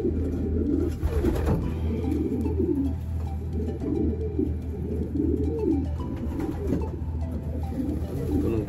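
Racing pigeons cooing in a loft in soft, repeated throaty phrases close by, over a constant low hum, with occasional faint chirps.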